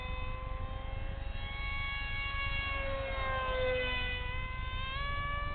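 A small RC F-22 model jet whines steadily at three-quarter throttle, a continuous high-pitched buzz with layered tones that shift slightly in pitch as it flies past, with no talk.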